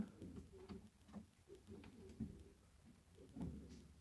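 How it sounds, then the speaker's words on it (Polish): Homing pigeons in a loft give soft, low repeated coos with light shuffling and patter, faint and close, alone without talk. "Gołębie od mistrza."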